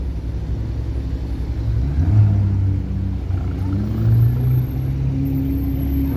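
A supercar on a Toronto city street rumbles with a low engine drone that rises in two revving surges, steady and fairly loud over traffic noise.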